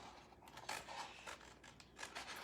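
Scissors snipping through paper to cut out a bird shape, a run of quiet, close, crisp clicks and rustles in irregular bursts, with no talking.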